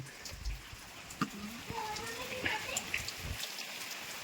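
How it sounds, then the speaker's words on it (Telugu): Heavy rain pours down outside a house near Hyderabad in a steady, soft hiss, with voices talking faintly over it. "వర్షం పడుతుంది కదా వర్షం చూపిస్తా ఫ్రెండ్స్ ఒకసారి చూడండి"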